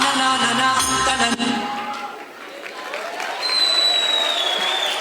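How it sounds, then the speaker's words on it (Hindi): Audience applause for a children's performance at a cultural event, a steady wash of clapping with some crowd noise that fades in the middle and then builds again, with a whistle-like tone near the end. "जोरदार तालियों के साथ हौसला बढ़ाइए हमारे बच्चों का।"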